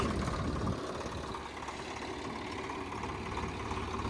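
A tractor engine idles steadily at moderate distance, a low, even rumble that holds constant throughout with a slight drop in the first second.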